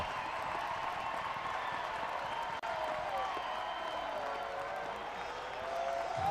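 An Arkansas college baseball crowd at a home game against UT Arlington roars for a lazy fly ball that drops in. A broad, sustained wall of cheering and applause holds steady for several seconds, with scattered voices inside it.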